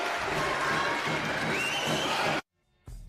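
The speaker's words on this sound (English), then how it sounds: "Listen to the crowd." Crowd noise at a high school boys basketball game, a dense, loud roar of cheering and voices that holds steady, then cuts to near silence before resuming briefly at the end.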